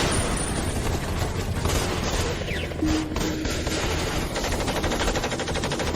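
Rapid machine gun fire rattles continuously at close range, a dense, unbroken burst of automatic shots lasting several seconds with no pauses, played as a dramatic sound effect.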